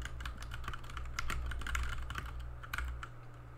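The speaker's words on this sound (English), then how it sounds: "we'll start by typing in this command" Quick, light keystrokes tapping on a computer keyboard in an uneven rhythm, typing a terminal command, close and fairly quiet over a low steady hum.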